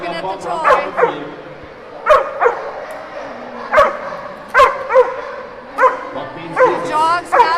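A dog barks at a retrieving toy at the 2017 AKC National Championship: about nine loud, close, sharp barks and yips come in an uneven rhythm over a steady background of crowd noise.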